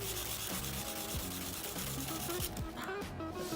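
Sanding a car body panel to rough it up, a steady close rubbing scrape in continuous back-and-forth strokes that briefly dips near the end, with a low hum underneath.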